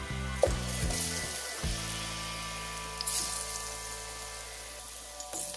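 Plantain fries in a small amount of oil in a pot, giving a steady hiss and crackle with a few clattering knocks near the start and a faint clink later.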